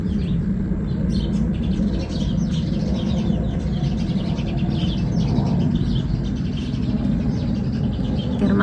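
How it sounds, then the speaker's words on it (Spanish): Small birds chirp and sing continuously in a succulent garden, with bright, busy tweets over a steady low background hum at moderate distance. "Se oyen el cantar de los pajaritos, amigos, hoy. Se escuchan preciosos"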